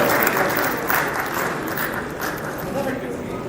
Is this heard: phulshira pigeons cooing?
no